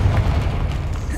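A Confringo fire curse explodes in Hogwarts Legacy, giving one loud, close, rumbling boom that holds for about a second.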